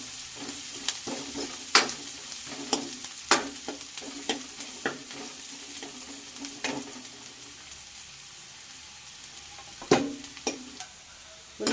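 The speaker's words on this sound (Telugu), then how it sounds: "ఉల్లిపాయలు వేగిపోయినాయి కదండి" Onions fry in a pan for a Telangana-style mutton curry, a soft steady sizzle punctuated by sharp clicks and scrapes from a stirring spoon against the pot.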